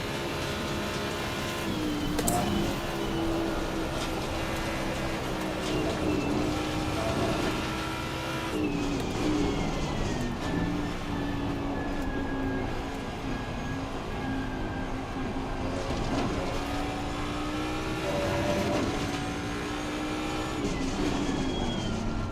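McLaren and Ferrari race cars run side by side, a steady loud engine roar with shifting pitch and whining tones throughout, no talk.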